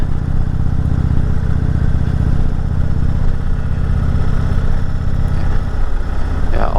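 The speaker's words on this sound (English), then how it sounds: "I think I almost prefer coming up here in a motorcycle." Motorcycle engine riding up Mt. Washington, a loud steady low rumble with a fast throbbing pulse and wind buffeting, continuous throughout with a brief shift near the end.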